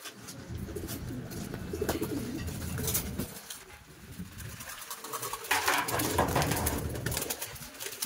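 Racing pigeons coo steadily at a loft after a 185 km summer training race from Tagkawayan, Quezon, a dense, continuous murmur with scattered higher bird calls and rustling.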